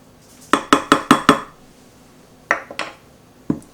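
A spoon clinks against a bowl while sugar-free ketchup is mixed into mayo for keto onion rings, first in a quick run of five sharp taps and then a few scattered knocks after a pause.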